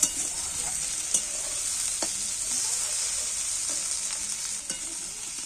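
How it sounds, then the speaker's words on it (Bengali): Chopped tomato frying in a pan, with a steady bright sizzle and a few distinct scrapes of stirring spaced through it, close and even, with no talking. "এইবার আমি কেটে রাখা একটা টমেটোকে দিয়ে দিচ্ছি এর সাথে টমেটমটা একটু হালকা করে ভেজে নেব"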